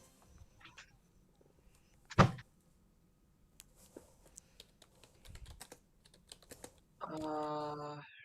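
Keys clatter on a computer keyboard during a simulator game, scattered soft taps and one sharp louder knock, ending in a brief buzzy electronic tone, all fairly quiet.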